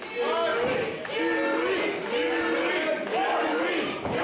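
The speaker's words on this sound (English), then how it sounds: "This crowd now rallying behind Dewey." Wrestling crowd at an independent pro wrestling show chanting and cheering in a rhythmic, repeated pattern, voices rising and falling in unison with a noisy arena wash beneath.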